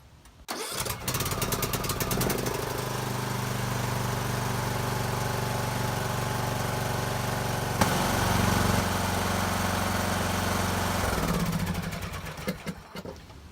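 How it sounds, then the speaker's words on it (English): A riding lawn mower engine, gravity-fed carburetor and stabilizer-treated fuel, cranks and catches, then runs at a steady, even idle for several seconds before shutting down, with a few sputters at the end. Close and loud, and no voices. "we're going to crank it up and let it run for a couple minutes"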